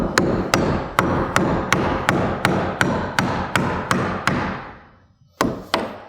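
A hammer drives nails into cripple studs in timber wall framing. About a dozen sharp, evenly spaced blows ring out close and loud, then a short pause and two more strikes.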